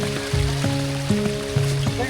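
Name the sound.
small waterfall running down the trail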